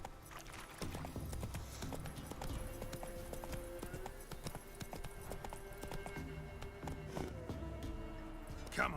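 Roach the horse gallops in Witcher 3: Wild Hunt, steady clip-clop hoofbeats running throughout under game music and ambience, with a brief louder burst near the end.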